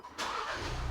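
A Ford Bronco engine cranks and catches, settling into a steady near idle that fills the short moment after a brief quiet start.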